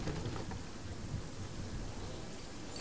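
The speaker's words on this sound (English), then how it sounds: "Gotta watch out for the storm" Steady, loud rain with low thunder rumbling throughout during a storm in the video game Fortnite, with no voices.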